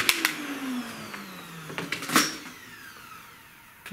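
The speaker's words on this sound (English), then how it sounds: "Vacuum some of that." A vacuum cleaner runs close by, its motor whine sliding downward in pitch, broken by a few sharp clicks and knocks while working on a pastel flower piece.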